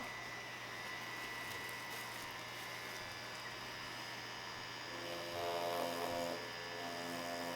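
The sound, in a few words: Mummy Anubis tattoo machine running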